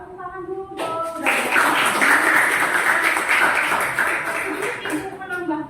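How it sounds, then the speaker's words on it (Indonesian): A classroom bursts into applause for a student group, a dense wash of clapping lasting several seconds, with a voice talking just before it begins and again as it fades. "Orang tepuk tangan dulu dong."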